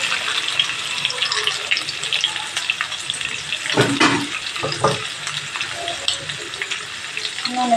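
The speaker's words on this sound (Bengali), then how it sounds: "নুন আর হলুদ দিয়ে আলুগুলো ভেজে নিতে হবে" Potato pieces frying in hot oil with salt and turmeric, a continuous watery sizzle with a few louder bursts as they are moved around.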